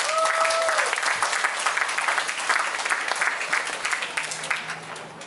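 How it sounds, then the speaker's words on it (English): A crowd at an evening political rally in a high school venue breaks into sustained applause, loud and dense from start to finish, with a brief feedback-like tone early on and faint voices mixed in. "Give them all a round of applause."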